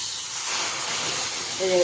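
Second coconut milk poured into a hot pan of chopped plantain, giving a steady broad sizzling hiss throughout, swelling slightly louder near the end, with no talk over it.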